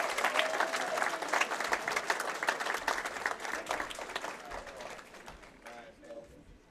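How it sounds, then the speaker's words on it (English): A bowling championship audience claps and cheers for the finalists at a Wisconsin high school bowling event, with steady dense applause that gradually tapers off. "One more round of applause for all of the finalists here on Championship Sunday."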